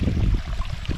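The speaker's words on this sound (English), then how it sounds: "Little waterfalls up and running." Small waterfalls splash steadily into a newly renovated garden pond. The running water rushes and gurgles, close and fairly loud, with no other sounds.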